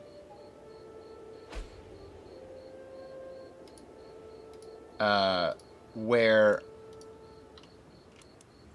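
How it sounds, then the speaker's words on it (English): Crickets just outside a window keep up a steady, faint pulsing chirp through the whole stretch, while a person speaks briefly twice near the end. "I've got crickets somewhere, like not in the house, I don't think, but right outside the window that are just going to town forever"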